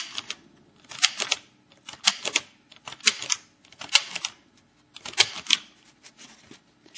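Mini handheld sewing machine stitching fabric in a steady series of loud, rapid mechanical clacking bursts, grouped in short runs with brief pauses between them, close up and alone.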